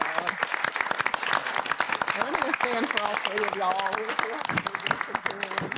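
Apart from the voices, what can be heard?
audience applause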